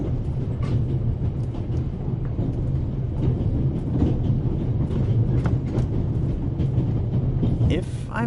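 The Orient Express in The Raven game rolls along with a continuous low rumble and rattle of carriages, steady and close for the whole stretch, with faint clicks over the drone.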